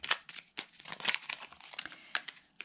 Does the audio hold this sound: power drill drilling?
no